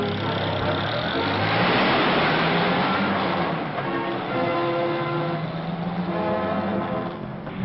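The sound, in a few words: Land Rover driving on a dusty road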